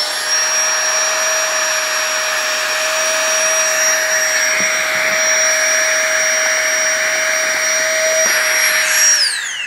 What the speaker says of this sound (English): It'll take just 2 seconds with the tiny pump to blow this up.